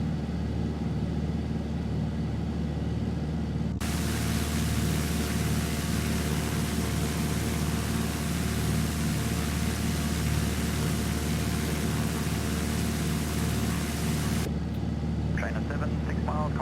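A single-engine piston aircraft drones loud and continuous at reduced cruise RPM over open ocean, a steady cabin rumble that shifts in tone partway through.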